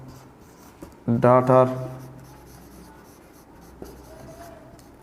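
Marker or chalk writing on a board during a maths lesson, a short loud squeaky scribble of a few strokes, with a teacher's voice speaking around it.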